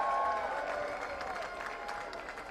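A crowd at a 3x3 basketball national championship applauds and cheers steadily, a dense wash of clapping from a large audience that fades slightly over a few seconds, with no clear talk over it.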